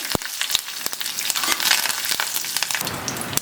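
Mustard seeds and a chilli sizzling in hot coconut oil in a pan, a steady bright crackle with sharp pops and spits scattered throughout, close and alone.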